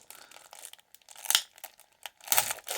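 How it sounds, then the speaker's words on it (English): Crinkly plastic wrapper of a 1990 Topps baseball card pack being torn open and crumpled, a close series of rustling crackles and tearing bursts in uneven handling rhythm. "So I'm going to open this package and see what kind of interesting things I can find."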